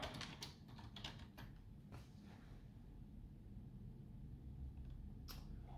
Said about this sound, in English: No, let me type.